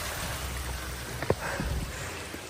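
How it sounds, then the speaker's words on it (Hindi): A small waterfall-like stream flowing on a hillside trail in Nainital, a steady soft watery hiss with a few brief splashes and knocks, fairly faint and without speech. "झरना सा बह रहा है।"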